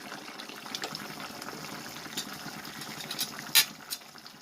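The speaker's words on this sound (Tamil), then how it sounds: "கொஞ்சம் ஒரு கொதி வந்து சிம்மில் போட்டுடலாம் அடுப்பை." Maththi fish curry (kuzhampu) bubbles steadily on the stove, a continuous wet hiss and popping simmer with a few sharper pops near the end.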